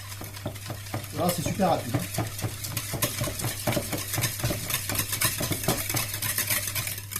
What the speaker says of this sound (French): Après, tu prends un fouet, tu mélanges tout ça.